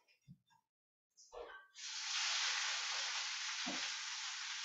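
A few soft knocks and clatters, then radicchio hits hot olive oil in a pan and bursts into a loud, steady sizzle that holds to the end with one low thud midway.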